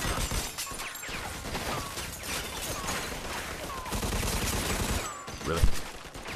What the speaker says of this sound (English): It's gonna be a long shootout, y'all, to get out this area.